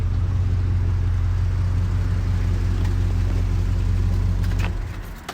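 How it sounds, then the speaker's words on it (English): A collector car's engine idles steadily at close range, a deep even rumble that holds for several seconds before dropping away as the engine is switched off near the end. "So maybe it's best we turn off that engine."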